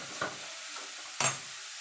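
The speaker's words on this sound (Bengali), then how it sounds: "এবার নেড়ে দেবো।" A vegetable mixture of beetroot and carrot stirred as it fries in a pan for vegetable chops, with a low sizzle and two or three quick scraping strokes, the last one louder, and no talking.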